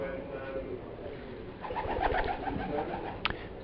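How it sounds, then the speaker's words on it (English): A pigeon flying across a cricket ground is picked up by an effects mic, a soft fluttering of wingbeats and faint coos rising midway over quiet crowd ambience, ending in a short sharp flap. "It's one of the pigeons just flying across."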